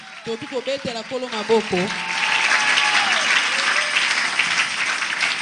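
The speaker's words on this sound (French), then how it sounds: "Est-ce qu'on peut acclamer le Seigneur?" After someone speaks briefly, a church congregation breaks into loud, sustained applause acclaiming the Lord, a dense wash of clapping that fills the room until the end.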